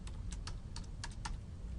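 Quick, uneven keystrokes on a computer keyboard, close up, clicking over a steady low hum.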